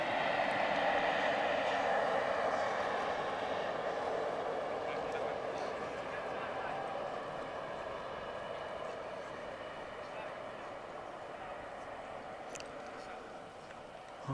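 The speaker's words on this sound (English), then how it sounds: "And we have one more train passing by." A train rumbles past at a distance beside a model glider contest field, a steady broad roar that slowly fades over several seconds, with some low background chatter.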